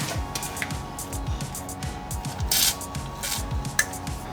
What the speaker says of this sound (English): The old WD-40 trick should do it.